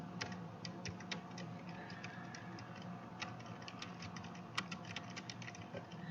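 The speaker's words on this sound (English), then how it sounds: "And then you're just going to start typing." Steady, rapid keyboard typing, a continuous patter of light clicks close by with no voices.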